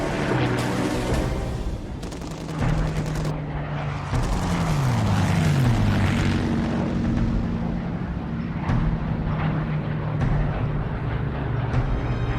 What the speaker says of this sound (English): With large numbers of fighter escorts sweeping ahead of them, the bomber formations cross the English coast.